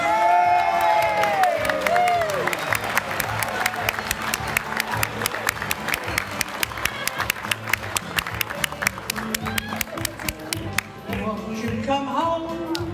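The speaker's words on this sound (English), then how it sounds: "Let's give a great round of applause to our own funny lady, Joey Sims." Loud audience applause with cheers and whoops for a comedian, dense rhythmic clapping that holds steady for several seconds and then thins out toward the end.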